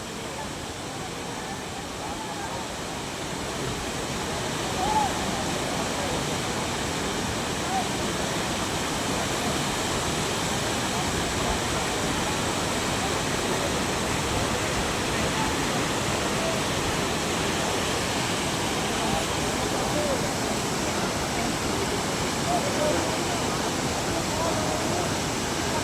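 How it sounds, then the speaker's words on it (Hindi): Waterfalls along the Kedarnath trail, swollen by heavy rain, pour in a dense, roaring rush. The loud, unbroken wash fills the whole scene and swells slightly after the first few seconds. "इसी तरीके से पूरे मार्ग में सारे झरने टूटे हुए, सभी झरनों पर जल आ रहा है"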